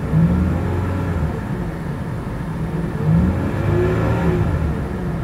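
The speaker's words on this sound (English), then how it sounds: "Okay, give her a little rev up for you." A 1999 Pontiac Montana minivan engine revs twice, rising in pitch then settling back to a steady idle rumble, close and continuous with no talking.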